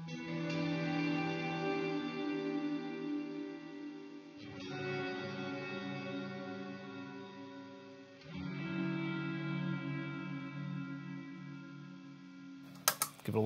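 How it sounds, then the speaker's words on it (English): Sustained guitar chords through an Eventide Blackhole reverb pedal ring out with a long, washy reverb tail, three strummed chords each left to decay, with a few clicks at the end. "Family appropriate amount of reverb."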